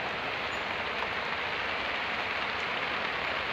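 Heavy rain keeps pouring on a village: a dense, unbroken roar of water, loud and steady from start to finish, with no talking.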